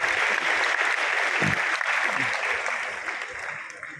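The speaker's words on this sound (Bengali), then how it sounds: "উনি সামনে উপস্থিত রয়েছেন, ওর জন্য একটা বড় করে হাততালি।" An audience at a book release function for a classical musician's autobiography applauds warmly, with steady dense clapping throughout that gradually tapers toward the end, with no talk over it.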